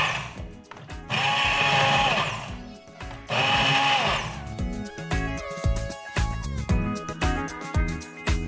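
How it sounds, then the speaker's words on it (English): An immersion blender whirs loudly in a pot of corn chowder in two bursts of about two seconds each, followed by the clatter and knocking of the blender against the pot, with no talk. "I'm going to use the immersion blender in it."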